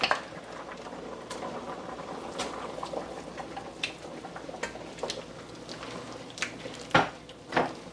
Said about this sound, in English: My peas is boiling lovely.